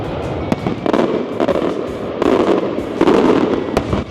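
Fireworks explode in a busy street in Valletta, Malta, a rapid irregular series of sharp cracks and bangs over a rumbling wash, loud and fairly close.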